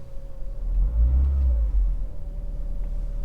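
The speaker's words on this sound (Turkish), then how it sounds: "Bir gaza basıp çekiyorum" A Renault Clio 1.4 K7J engine with an idle valve fault gets one quick rev, swelling in loudness around the first second and a half, then settles back to a steady low idle rumble, close up with no talking.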